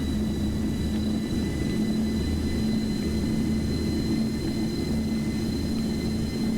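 Jet engines of a Boeing 727-100 in the X-Plane 12 flight simulator during takeoff, a steady loud rumbling drone with a low pulsing hum and faint high whine, no voices.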